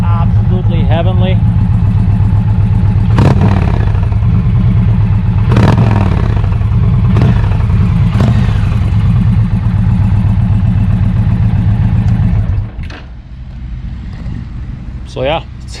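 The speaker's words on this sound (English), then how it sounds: "The zombie baffle sounds absolutely heavenly." Indian motorcycle with a zombie baffle exhaust idling loudly with a deep, steady thumping burble, sharp clanks now and then, before the engine cuts off near the end and faint talk follows.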